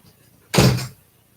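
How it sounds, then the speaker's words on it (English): A door being shut indoors gives a single short thud, close and fairly loud, with silence before and after. "Shut the door?"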